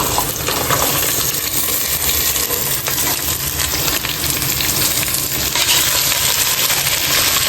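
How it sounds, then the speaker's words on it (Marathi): Carrots sautéing in two spoons of ghee inside a heated pressure cooker, a steady close sizzle with scattered crackles and faint stirring scrapes running unbroken for the whole stretch, no voices. "गाजर तुपामध्ये मस्त परतून घ्यायचं"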